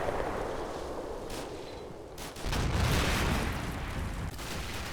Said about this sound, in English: With the sounds of Ukrainian suppressive fire in the background